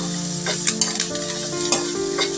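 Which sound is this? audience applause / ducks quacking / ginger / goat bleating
ginger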